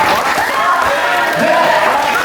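A crowd cheers and claps loudly and steadily at a Democratic Party guerrilla talk show in Gyeonggi Province, welcoming party leader Park Chan-dae onto the stage.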